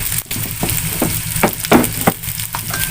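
Shallots with red chilies and bird's eye chilies sizzle steadily in hot oil while jengkol is cooked, a dense continuous crackle broken by a few sharper stirring clinks, close and fairly loud with no talk.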